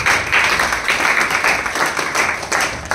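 An audience at a Marathi award ceremony honouring women breaks into applause, loud, steady clapping from many hands with slight swells, close and continuous, no talking over it.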